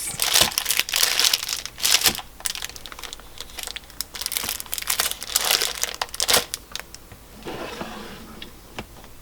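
Bubble wrap and padded bubble envelopes in a polymer clay craft workshop are handled and shifted on a storage shelf, producing close, crisp crinkling and rustling in irregular bursts, with a lighter, quieter patch near the end.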